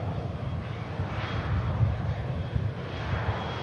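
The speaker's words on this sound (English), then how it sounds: "Should get up in front of us, this EasyJet arrival." An EasyJet passenger jet arriving at Manchester Airport from Nice produces a steady, moderately loud low engine rumble that swells slightly, heard alone with no voices.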